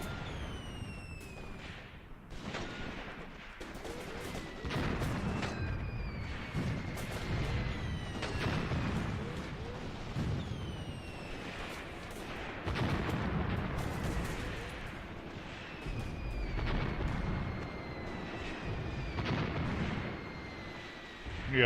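Howitzer artillery booms repeatedly in the combat game Graviteam Tactics, heavy deep blasts at irregular intervals with rumbling tails, mixed with sharper gunfire cracks and whizzing shells across a busy battlefield.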